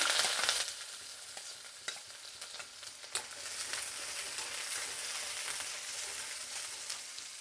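Red onions fry in oil with a steady, bright sizzle for sambar, broken by occasional clicks and scrapes of stirring; no voices.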